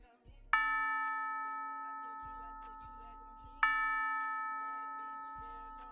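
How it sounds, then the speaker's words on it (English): Two deep, resonant tower bell strikes in a beat, each ringing out and slowly fading, set against a quiet beat of soft low thumps and faint ticking. "like a movie type bell, like it's like a tower bell"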